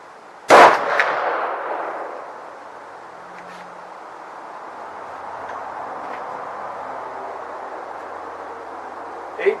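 Marlin M1895XLR .45-70 rifle fires a single loud, sharp shot at a range, followed by a long fading reverberation that gives way to steady outdoor background noise.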